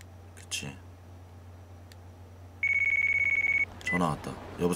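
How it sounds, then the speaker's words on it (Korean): A telephone rings in the video game Yakuza Kiwami, a bright electronic trill holding for about a second amid short bursts of game sound effects. "전화 왔다."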